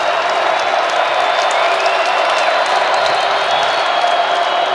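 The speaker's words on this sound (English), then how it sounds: "Here comes this crowd now as they rise to their feet." A stadium crowd at an Illinois State versus North Dakota State FCS football playoff game rises to its feet, a dense, loud, continuous roar of cheering that fills the whole stretch.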